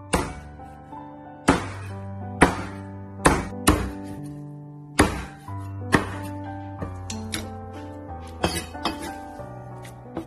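Repeated cleaver chops cutting chicken feet into small pieces on a board, about a dozen sharp, ringing knocks at an uneven rhythm, close and loud with a metallic clink to each strike.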